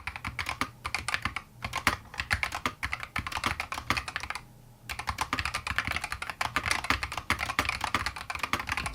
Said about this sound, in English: So here's a quick audio sample of what the keyboard sounds like.